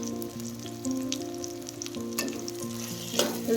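Okra and tomato frying in a pan for ladies finger palya, sizzling steadily up close while a spoon stirs with occasional scrapes and clinks.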